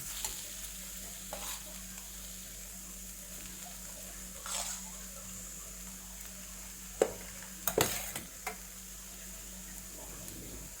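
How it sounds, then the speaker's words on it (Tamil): Rice being stirred into cooked carrots seasoned with chilli powder and turmeric in a pan, giving quiet scraping and stirring sounds over a faint steady sizzle, with a few sharper spoon clinks near the end. "நான் இப்போ ரைஸை போட்டு மிக்ஸ் பண்ணுறேன்."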